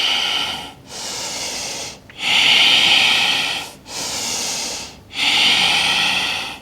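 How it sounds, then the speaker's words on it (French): Slow, deep breathing during a yoga abdominal-strengthening routine, with four long breaths in a steady rhythm, each a loud, airy, close-up rush of air separated by brief pauses, with no talk. "On continue à respirer profondément."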